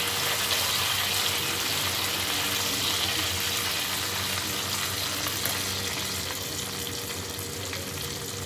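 Curry leaves sizzling in hot oil with popped mustard seeds, a steady, close, loud crackling hiss that runs without pause for the whole stretch, with no voices over it.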